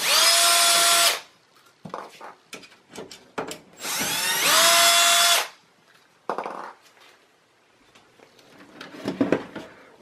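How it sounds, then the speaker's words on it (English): Two loud bursts of a power drill whirring, each about a second long, removing screws from the back of a Lenovo ThinkCentre A58e desktop, separated by clicks, clatter and handling noises nearby. "using a drill."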